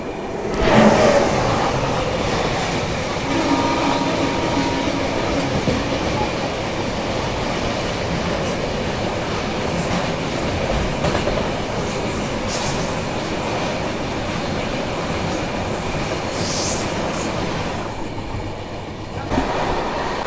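The Hyderabad–Mumbai Hussain Sagar Express rumbles steadily along the tracks after departing, with a continuous rolling roar and faint clacking, close by and loud throughout, no talking.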